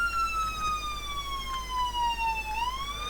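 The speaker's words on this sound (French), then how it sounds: "Il y a la sirène, regardez." Electronic siren of a gendarmerie Renault Mégane RS police car in a video game, a sustained tone sliding slowly downward then rising again, loud and steady over a low background hum.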